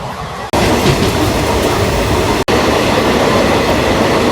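A train running on the Vijayawada–Secunderabad main line near Pagidipalli junction cabin makes a loud, continuous rumble with rattling and wheel noise. Two brief dropouts cut into it, one near the start and one partway through.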